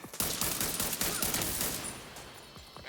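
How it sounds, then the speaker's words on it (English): Rapid assault rifle fire in a video game, a dense burst of sharp shots packed close together for about two seconds before dying off into a faint tail. "this assault rifle is rocking"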